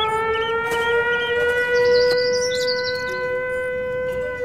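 A Siren Head siren wails in a video game, a loud sustained tonal howl with stacked steady pitches holding throughout, with brief chirping game sounds and clicks over it.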